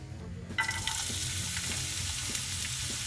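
Onion frying in a pan for Italian-style meatballs with tagliatelle, a steady crackling sizzle that starts abruptly about half a second in and holds loud and continuous, with faint low clatter beneath.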